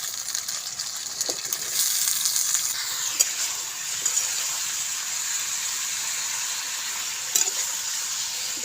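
Sliced raw green banana and potato frying in hot oil in a pan while being stirred, a steady bright sizzle with a few sharp scrapes and clinks from the spatula, close and loud with no talking.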